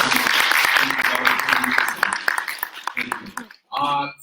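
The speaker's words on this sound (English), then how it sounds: "Can you give another round of applause?" Audience applause closes a short lecture on attitudes and attitude change: a steady wash of dense clapping that thins and breaks off near the end, followed by a brief burst of a voice speaking.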